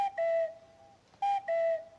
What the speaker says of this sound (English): the Cuckoo Car Horn, which sounds a bit like this.